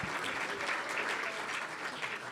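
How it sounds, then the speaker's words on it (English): Steady audience applause at a Rotary club meeting, a quiet, even patter of many hands clapping for a couple of seconds from a room full of people. "Let's give Bob a big round of applause."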